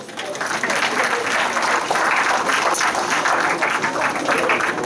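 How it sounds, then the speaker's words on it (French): An audience applauds at a magic show, loud and close, with steady dense clapping that fills the moment without pause. "Applaudissements"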